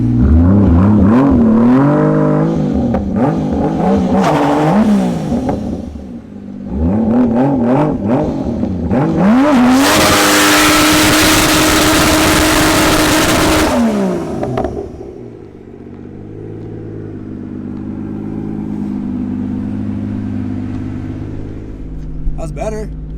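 A 2JZ-swapped Ford Mustang revs hard on a two-step limiter in loud, rising bursts that give way to a sustained rough roar, then settles to a lower rumbling idle, with people talking over it.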